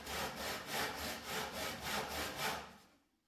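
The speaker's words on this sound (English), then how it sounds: "I definitely need a new handsaw." A handsaw cutting wood in close, regular back-and-forth strokes, about eight rasping pulses before the sawing stops and the sound falls away.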